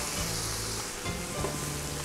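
Tomatoes added to a hot pan with olive oil and garlic, sizzling in a steady, fairly quiet frying hiss with faint stirring scrapes, no talk.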